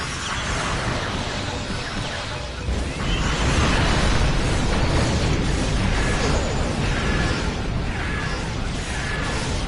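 A sustained, roaring explosion in the video game Star Trek Online, with heavy rumbling and crackling debris, loud and continuous throughout, with whooshing swells layered over it.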